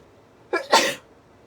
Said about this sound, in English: I got a sneeze coming